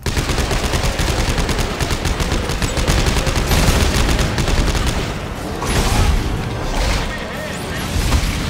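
Rapid, dense gunfire from the Dead Space 3 video game plays loudly and continuously, with sustained bursts of shots and booms.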